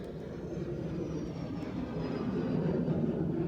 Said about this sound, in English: The noise isn't that bad from jets anymore.